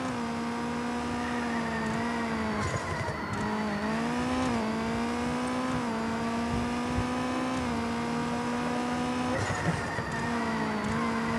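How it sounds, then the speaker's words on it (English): A rally car engine in Rally Racer Dirt on the harbour stage drones loudly and continuously, its pitch rising and dipping as it revs through gears, with no talking over it. "this car is pretty fast"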